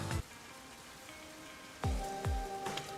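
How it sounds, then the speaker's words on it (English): Steady rain patters softly in the background of the video game Master Detective Archives: Rain Code, while a few sharp, sweeping impact sounds cut in near the start and toward the end. "It's raining."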